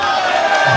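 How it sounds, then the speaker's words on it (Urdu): Crowd at a political rally chanting slogans, a loud, dense roar of many voices close by that lasts a brief moment. "ابھی نعرے کوئی نہیں, پلیز کوئی نعرے نہیں"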